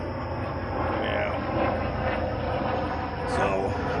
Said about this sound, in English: Got a helicopter going by.